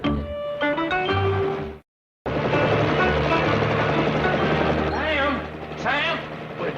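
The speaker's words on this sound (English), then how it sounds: "My golly, Howard, that's one of those military helicopters." A helicopter's heavy rotor roar fills the scene, loud and continuous, with a brief silent gap and voices talking over it.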